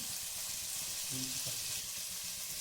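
Tomatoes and chopped green chillies sizzle steadily in a hot pan while being slowly stirred, a soft continuous frying hiss with faint spoon movements beneath.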